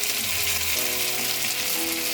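Sliced sausages and tomatoes frying in a pan for a plantain and egg frittata, a dense, constant hiss of sizzling fat, close and loud with no talking.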